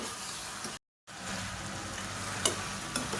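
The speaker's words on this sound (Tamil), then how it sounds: "சேர்த்துட்டு இது எல்லாத்தையுமே நல்லா வதக்கிக்கலாம்." Sliced tomatoes and vegetables sauté in hot oil in a pressure cooker for South Indian brinji rice, giving a steady close sizzle with faint stirring clicks and one brief dropout.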